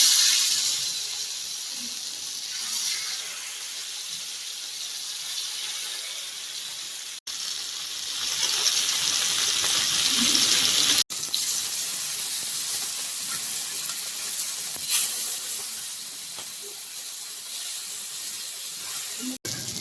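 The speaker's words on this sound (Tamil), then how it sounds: "மீனை வறுத்துடலாம்." Masala-coated fish frying in hot oil, a steady loud sizzle and hiss that runs throughout with brief dips, close up and alone.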